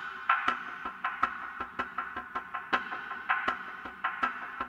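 Sparse metallic hits ring out with echoing tails in a steady, quiet rhythmic loop, clanging softly at a moderate distance.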